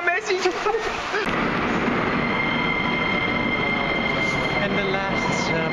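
A subway train rumbles loudly and steadily, with a sharp clatter near the start, then a continuous roar of wheels and carriage noise.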